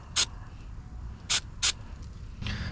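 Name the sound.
spraying MAF sensor cleaner on a car part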